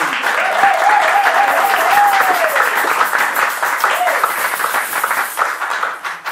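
A church congregation claps in dense, sustained applause that stays loud throughout, with a voice rising briefly over the clapping near the start.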